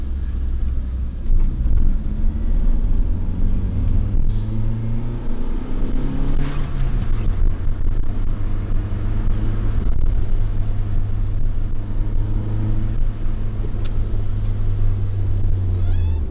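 Steady wind rush from a slightly open window and low road rumble inside a moving Proton Wira, a constant roar with a droning hum throughout.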